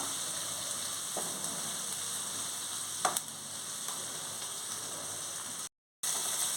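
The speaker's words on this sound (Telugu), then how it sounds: "పుదీనా కొంచెం వేసుకోవాలి ఇది కొంచెం వేగాలి" Mint leaves frying in a pan, a continuous close crackling sizzle with a few sharper pops, steady and without talk, cutting out briefly near the end.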